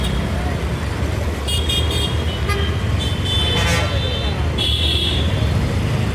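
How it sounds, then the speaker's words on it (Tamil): Bus pulling into Ukkadam bus stand in Coimbatore amid constant traffic rumble, with several horn toots in short bursts over the busy roadside din and someone talking throughout. "நம்ம மன்னார்காடு வண்டி வருது பாருங்கள்"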